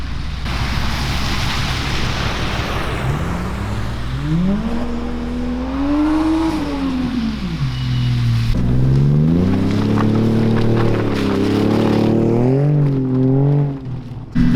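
A Nissan 240SX creeps slowly down a hill, its engine note rising and falling as it moves, under steady wind noise from the microphone.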